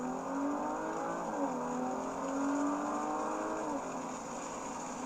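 A 2019 Audi RS5 in sport mode pulling hard with a rising engine note, a brief dip as it downshifts, then climbing again, loud and steady from inside the car.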